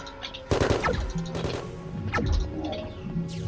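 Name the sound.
shotgun fire from intruders in an indie space video game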